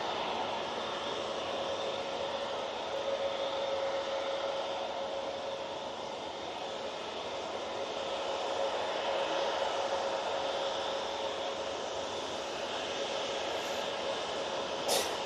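Global Airlines Airbus A380 rotating on takeoff at Manchester Airport, heard as a steady, broad jet engine roar with a faint high whine, constant and moderately distant throughout.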